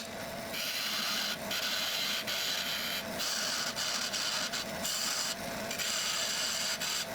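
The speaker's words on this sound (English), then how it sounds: "I'll turn a tenon on the end first," Wooden lamp-base blank spinning on a lathe as a tenon is turned on its end, giving a continuous scraping, rasping cut with brief regular dips where the tool lifts away.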